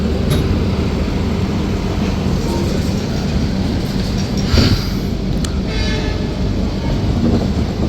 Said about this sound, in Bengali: এত বড় গাড়ি প্ল্যাটফর্ম থেকে বেরিয়ে গেছে ট্রেন।